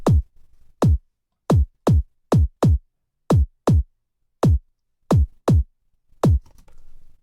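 A short, static kick drum sample from a UK garage track hits about a dozen times in a stop-start pattern, each thump dry, punchy and isolated with silence between.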